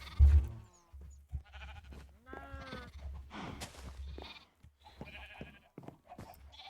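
Sheep bleat repeatedly on a Minecraft farm, several overlapping wavering baas in quick succession, close and clear with brief gaps between calls.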